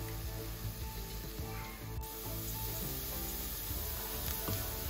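Plantain skin frying in a pan with onion and curry leaves, a soft steady sizzle and crackle running close and quiet throughout.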